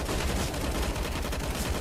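Rapid rifle fire in the video game CS:GO, a dense continuous burst of shots, loud and close throughout.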